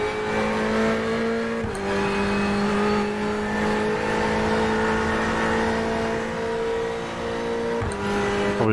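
A race car engine in the iRacing sim, at the Nurburgring, holds a high steady drone that climbs gradually, with sharp gear-shift breaks near the start and end; loud and close, no voices.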